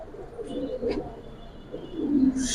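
Pigeons of the jabra pankhi giribaj breed coo softly in short, low, throaty phrases, one after another, quiet and close with a faint chirp in between.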